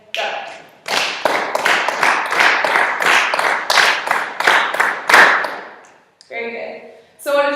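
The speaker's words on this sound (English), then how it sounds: "we're going to just clap what you see on the board" A class claps an even rhythm off the board: about a dozen loud, evenly spaced claps of equal length, then a short spoken voice right after.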